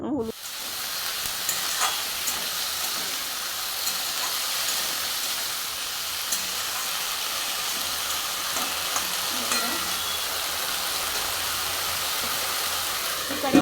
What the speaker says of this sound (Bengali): সবজিটা দিয়ে দিল মানে বরবটি আর আলুটা আর কি কারণ এটা ভাজা ভাজা করবে